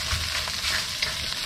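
Egg fried rice sizzles and crackles steadily in a hot wok over an indoor burner, a close, continuous frying hiss with faint stirring scrapes and no talking.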